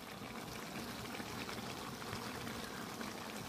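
Ghee goes into a simmering jackfruit curry, giving a steady, soft bubbling and trickling sound with no talking, even and close for a few seconds.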